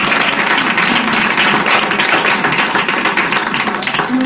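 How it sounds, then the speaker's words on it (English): Audience applause for returning fellows at a welcome reception: steady, dense clapping from a roomful of people, loud and sustained throughout with no pause. "Let's give them a round of applause."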